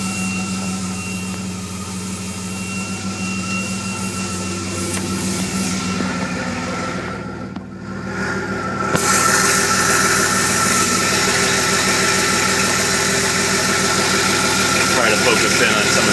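A DeLorean engine idles steadily with a constant mechanical hum and vibration, close and fairly loud. A brief dip occurs midway before the idle picks up again a little louder.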